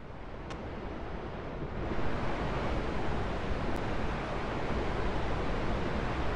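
Water waves in the RLCraft video game make a continuous rushing wash of noise that swells slightly partway through, with no voices.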